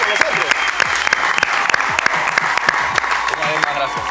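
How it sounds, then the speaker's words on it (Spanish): A TV studio audience applauds a guest, the footballer Jefferson Farfán, with dense, steady clapping close by for a few seconds. "Otro aplauso para nuestro invitado especial del día de hoy, el gran Jefferson Farfán"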